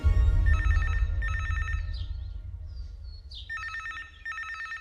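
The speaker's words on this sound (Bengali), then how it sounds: "টেলিফোন বেজে উঠল।" An old-style telephone rings in a Bengali audio drama: two double bursts of electronic trilling, then a pause, then two more, heard close over a low background hum.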